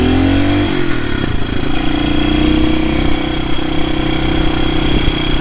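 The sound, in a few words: 1972 BSA B50SS Gold Star motorcycle engine running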